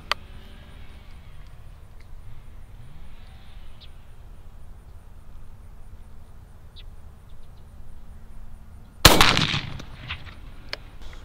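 One loud, sharp shotgun blast fired through a Patternmaster Code Black choke rings out near the end, preceded by a long stretch of quiet outdoor ambience.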